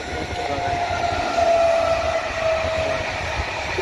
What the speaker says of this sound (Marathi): आता आमच्या वावरातून जाणारी रेल्वे मी तुम्हाला दाखवतो